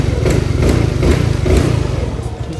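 A Suzuki Skydrive 115 Fi motorcycle idles close by, giving a loud, even low thrum with a steady pulsing beat and no voices over it.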